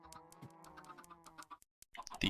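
Minecraft chickens clucking from a spawner, a quick run of soft, faint clucks with short gaps and a brief silence near the end.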